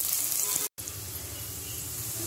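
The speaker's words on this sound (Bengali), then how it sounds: "এখন দিয়ে দিব রসুন কুচি আর পেঁয়াজ কুচি। এটা একটু ব্রাউন কালার করে ভেজে নিব।" Chopped garlic and onion frying in oil, a moderate steady sizzle broken by a short silent gap, with faint pan noises beneath.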